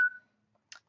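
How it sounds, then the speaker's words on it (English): A short electronic mobile phone notification: a brief tone at the start, then a second quick chirp a moment later, faint and alone in a quiet indoor setting. "Sorry, that was my phone."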